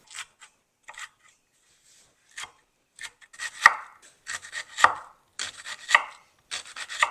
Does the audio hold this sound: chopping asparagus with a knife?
yes